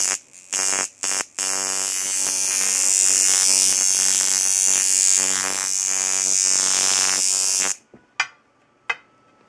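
A tattoo machine runs at 7 volts as a gray wash shader on a modded power supply, with a loud, steady electric buzz after a few brief starts. It stops sharply near the end, followed by faint clicks.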